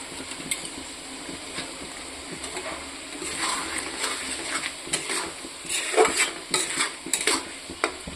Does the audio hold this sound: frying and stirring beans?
yes